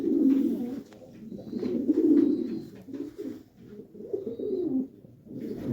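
A sick pigeon, already dosed with medicine and passing loose, dysentery-like droppings, gives repeated low cooing phrases in close, fairly loud bursts separated by short pauses.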